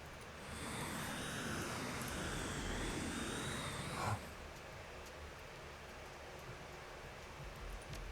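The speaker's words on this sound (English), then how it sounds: "Now they actually have like jet engine noise." An upgraded drone in the Shadowrun Hong Kong video game gives off a loud jet-engine roar with a high whine for about four seconds, then cuts off, leaving quiet background hiss.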